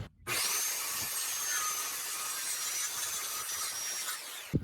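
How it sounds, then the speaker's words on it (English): A reciprocating saw (sawzall) cuts through wooden boards for a backyard shed build. It makes one continuous, fairly faint rasping, buzzing cut lasting about four seconds, alone with no talk. "I'm going to get a sawzall or reciprocal saw and make some cuts"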